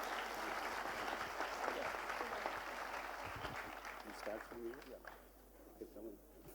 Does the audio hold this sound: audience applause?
yes